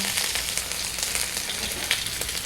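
Ginger, yellow asafoetida powder and black pepper sauté in a hot pan, a steady close sizzle with faint light crackles throughout and no voices.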